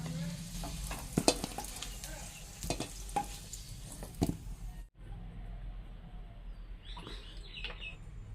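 Potato pieces frying in hot oil until light golden, a close steady sizzle with spatula stirring scrapes and clinks, then a quieter stretch where faint bird chirps come through in the background.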